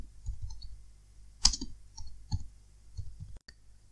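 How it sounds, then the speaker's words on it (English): A computer mouse clicks several times in light, close taps spaced irregularly, with one sharper click in the middle and quiet gaps between. "click the play button to run the program"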